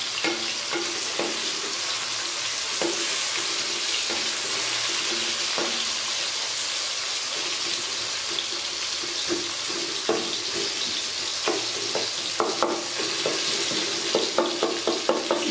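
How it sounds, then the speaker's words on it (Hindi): Tomatoes fry and get stirred in a pan for chicken biryani, a continuous close sizzle broken by repeated spoon scrapes and clacks that grow busier toward the end. "टमाटर को हम इतना पका रहे हैं कि टमाटर को हम इसमें अच्छे से मैश कर सकें"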